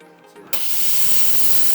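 Steam wand on a Cimbali M26 espresso machine blasting steam in a sudden loud, steady hiss that starts abruptly and continues unbroken, heard alone.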